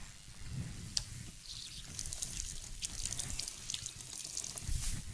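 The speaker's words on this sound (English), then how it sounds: "let me wash my hands." Water runs over hands at a kitchen tap while washing before making a veg wrap, a soft, fairly faint splashing trickle with small bursts of spatter, steady throughout with no talk.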